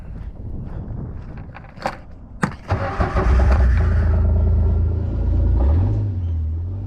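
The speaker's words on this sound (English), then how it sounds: "Kind of cool to ride around in the buggy too." Dune buggy with no heater starting up and pulling away, a few clunks and a catching engine swelling into a loud, close, steady rumbling drive with a shift in engine pitch near the end.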